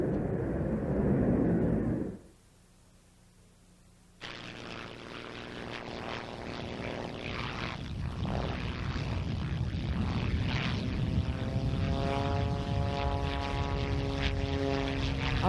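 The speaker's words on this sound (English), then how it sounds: "The airplane you see behind me, the Staudiker 300, is the only unlimited class aerobatic airplane that's built in the United States." A Staudacher 300 unlimited-class aerobatic propeller plane flies at an air show, its engine roaring loud and near with a shifting, rising pitch after a brief quiet gap that follows an earlier rumble.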